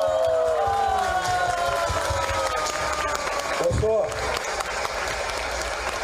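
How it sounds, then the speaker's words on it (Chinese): A rally audience in Taiwan applauds continuously, with a dense crowd clapping wash running under a man's amplified speech throughout. "大家如果认同请用掌声表达一下吧"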